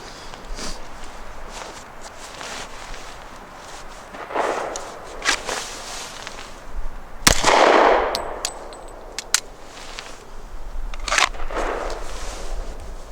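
Handgun shots at a shooting range, single rounds fired one at a time, with a few sharp cracks spread across the stretch, plus occasional metallic clinks and shuffling between them.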